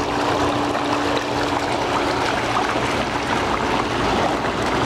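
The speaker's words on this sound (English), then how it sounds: "make this big master blaster in here go" A powerful master blaster jet in a Mercury hot tub churns the water with a constant, loud, broadband rushing roar that holds steady from start to finish without speech.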